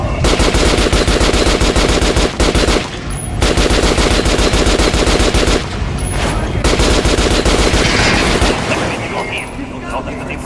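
Sustained automatic gunfire in a video game, rapid bursts hammering an armored target, loud and dense with brief pauses between volleys.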